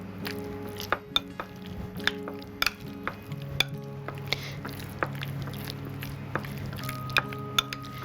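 Thick yogurt marinade stirred and mixed in a bowl for butter chicken, giving soft wet squishing and stirring with scattered clicks of a spoon against the bowl, close and fairly quiet, with no talking.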